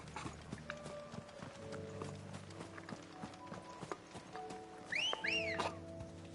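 Horse hooves clip-clop in a steady rhythm in Final Fantasy XVI, a mounted steed moving at moderate distance over a background of game music, with a brief whistle-like flourish near the end.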